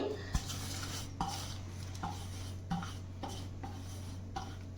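Spices, salt, turmeric and ginger paste worked by hand into cut red chandava fish in a bowl, with soft repeated clinks and scrapes of a metal vessel at a steady pace, close and fairly quiet.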